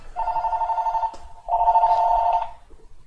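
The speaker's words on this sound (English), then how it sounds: "I'm getting a phone call" A phone rings with an incoming call during a Splatoon 3 speedrun, two close electronic ring bursts with a short gap between them, fairly loud and alone.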